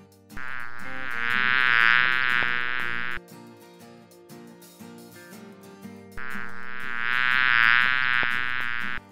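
Buzzing of a bee, heard in two sustained bursts separated by a quieter stretch, set against a light musical backing with no talking.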